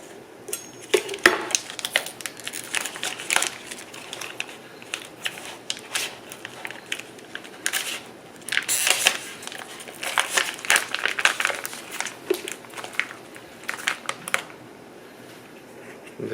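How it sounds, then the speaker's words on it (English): Vacuum-sealed plastic packaging around a Walmart wagyu steak being cut open and pulled away, with repeated close crinkling and crackling bursts scattered throughout. "we're about to unpackage these beautiful steaks and get them going"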